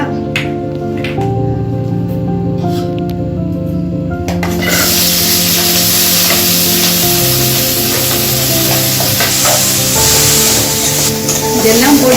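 A steady sizzle of vegetables frying in hot oil for a tiffin kuruma, with a persistent hum underneath and the hiss growing brighter partway through.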